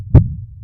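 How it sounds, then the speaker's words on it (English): A single soft heartbeat thump, heard through a stethoscope in a cartoon doctor's examination, sounds short and low, then fades into a quiet hum. "would you like to listen to your heart beating?"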